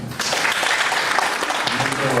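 An audience applauds to welcome a speaker at a legal event, a dense, continuous wash of clapping from a full room that holds steady throughout.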